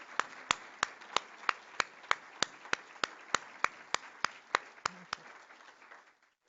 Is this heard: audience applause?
yes